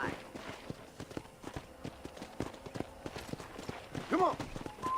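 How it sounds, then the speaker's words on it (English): Horse hooves clip-clop in a steady walking rhythm in Red Dead Redemption 1, quiet and close, with a short bright chirping call near the end and a faint speaking voice underneath. "I picked out a fine horse for you."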